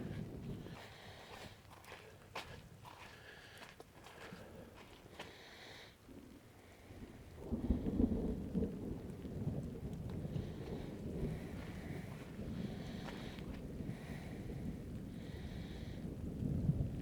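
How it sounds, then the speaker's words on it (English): Steady rain during a thunderstorm in Holcomb Valley, a soft continuous hiss that swells noticeably louder partway through and keeps pattering on, with faint scattered taps and no talk. "it's starting to rain harder now"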